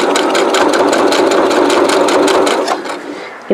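A Brother computerized sewing machine stitches over a thick denim hem, sounding close and loud with a rapid, even mechanical chatter of needle strokes. The motor strains and slows near the end before stopping.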